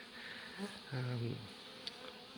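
Bees buzz in a steady hum close by, with a louder pass swelling briefly partway through.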